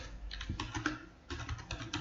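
Rapid keystrokes on a computer keyboard, a steady run of close, soft clicks with a brief lull midway, no voices.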